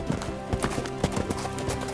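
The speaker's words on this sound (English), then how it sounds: "the thumping, like thunderous sound of these horses" Herd of wild horses stampeding across an American West desert landscape, hooves thumping in rapid irregular clip-clop beats, close and loud, with a faint whinny amid the pounding.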